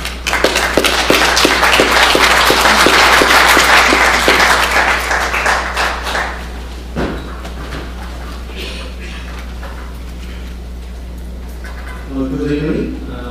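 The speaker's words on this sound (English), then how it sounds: "I hope you can give a big applause to the Professor Han from Seoul University" Workshop audience applauds a speaker on urban nature conservation: lively clapping for about six seconds that tapers off, followed by room quiet with a low hum and a brief voice near the end.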